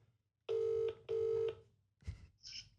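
An outgoing phone call ringing through a speaker held near a microphone during a podcast: two long electronic ring tones, then a click and the line picking up, fairly quiet and alone.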